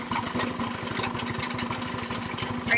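A small child-sized vehicle's engine idles steadily up close, a continuous low rumble with a fast regular pulse and no break.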